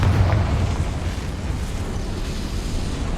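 A Confringo fire spell explodes in the Hogwarts Legacy video game, a deep roaring boom that rolls into a sustained, dense rumble and crackle, loud and close throughout.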